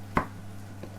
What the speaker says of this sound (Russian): Вот этот рифленый нож делает очень красиво, режет.